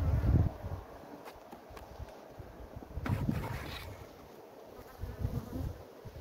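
A steady, close insect buzz of honeybees at a hive hums continuously, with a few louder low rustles and bumps rising over it now and then.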